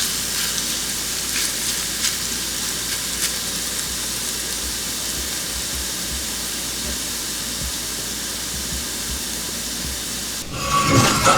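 Garlic flash-frying in hot oil for a Levantine peas and carrots stew gives a steady, close sizzle and hiss that holds evenly throughout, with a brief clatter near the end.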